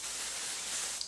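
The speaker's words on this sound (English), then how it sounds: "I'm gonna take my Ironclad thermal protecting spray, and we're gonna spray this all over my hair" Ironclad thermal protecting spray is misted onto hair before hot rollers, making one steady, close, breathy hiss that runs for about a second with no voices.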